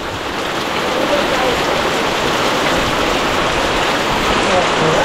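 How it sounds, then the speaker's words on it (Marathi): Heavy monsoon rain pours down in a village, a dense, unbroken roar of falling water that holds loud and even for the whole stretch. "कसला भरमसाठ पाऊस आलाय बघा."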